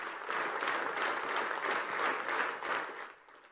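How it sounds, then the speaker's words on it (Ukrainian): Senators in a legislative chamber stand and applaud a unanimous vote, a dense, steady roar of clapping that holds for about three seconds before fading. "Результати голосування сенатори зустрічали стоячи гучними аплодисментами"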